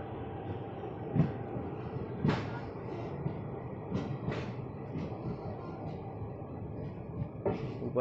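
Mussoorie Express passenger train travelling from Delhi toward Haridwar, a steady rumble of rolling carriages with several sharp clacks and brief metallic bursts from the wheels, heard from inside the coach with no talking.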